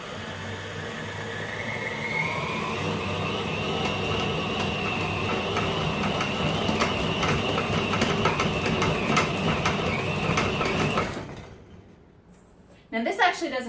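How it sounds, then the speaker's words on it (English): A stand mixer beats gluten-free egg pasta dough into a paste, giving a steady loud motor whir with a rising tone that runs for about eleven seconds and then cuts off. "So the stand mixer helps it go so much faster"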